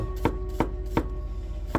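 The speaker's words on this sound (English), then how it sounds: "when you cut onions with a razor sharp knife" Four crisp chops of a sharp nakiri knife through a shallot on a cutting board at an even, unhurried pace, close up with no talking.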